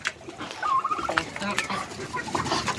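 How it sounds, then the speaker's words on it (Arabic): Weak, feeble laying hen clucking in soft, irregular bursts close by, with other birds and a voice faintly in the background. "وبرضو في فرخه من الفراخ البياضه بصوا ضعيفه"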